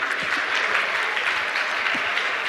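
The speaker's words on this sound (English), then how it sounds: "Give him a round of applause." An audience at a school education talk breaks into a steady round of applause, dense clapping from many hands that holds at an even, fairly loud level throughout.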